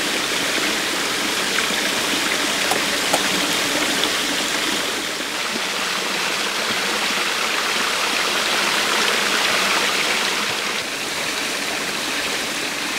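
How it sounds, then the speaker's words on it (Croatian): A small waterfall in wet, rocky Sri Lankan forest, water trickling and splashing steadily over rocks as a continuous even rush, fairly close and alone with no voices. "Ni slap nije u petoj brzini, već sada pomalo curka tu i tamo."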